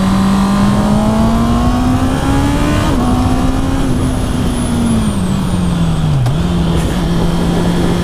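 A 2019 Honda CB650R motorcycle engine held at steady revs while riding, a continuous close engine drone with a slight dip and recovery partway through, loud with wind rush underneath.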